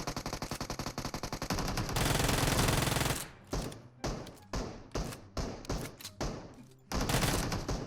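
Uzi submachine gun fire in the battle royale game PUBG Mobile: a long rapid burst followed by a dense roar of shots, then several short separate bursts, loud and close with no talking.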